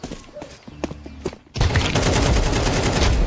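A Negev machine gun in Counter-Strike 2 opens up after scattered footsteps and clicks, then fires a loud continuous stream of rapid shots to the end, with no talking.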